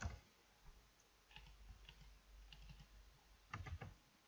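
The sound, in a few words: typing text on a computer keyboard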